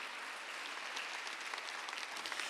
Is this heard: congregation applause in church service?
yes